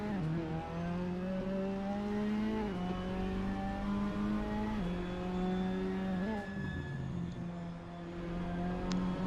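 Race cars lapping in Assetto Corsa during a 24-hour endurance race, engines droning steadily loud with repeated gear-shift dips and revving climbs, several cars running close together.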